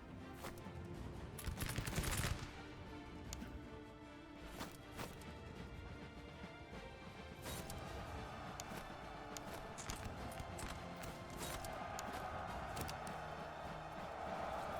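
Musket volleys from troops in the historical strategy game Master of Command crackle as scattered, overlapping shots, some sharp and close and others distant pops, over a steady battlefield rumble.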